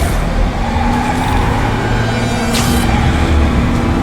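Trucks drive through city streets in Marvel's Spider-Man, a continuous, loud rumble of road traffic and engine noise that holds steady, with a brief brighter hiss near the end.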